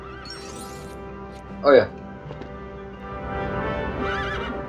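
Horses neigh and whinny in the LEGO Indiana Jones: The Original Adventures video game, one loud whinny standing out near the middle with hoof clip-clop and game sounds around it, while a person talks over it.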